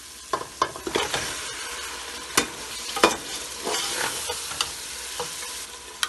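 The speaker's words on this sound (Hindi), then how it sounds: "तो इसमें डाल देंगे गोश्त" Meat is tipped into a pot of chana daal for gosht and stirred, with a steady sizzle of frying under sharp scraping and knocking of the spoon against the pot, close and moderately loud, with no talk.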